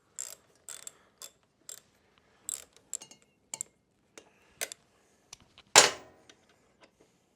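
A wrench clicks and ratchets in short, sharp bursts while a rear brake caliper bolt on a Kawasaki Ninja 250 is broken free, with a louder crack near the end, close and alone.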